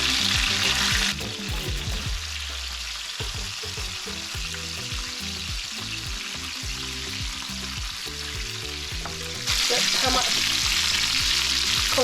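Lemon chicken pieces browning in a hot pan, a loud continuous sizzle punctuated by clattering knocks as the pieces are turned, with the fry flaring brighter toward the end.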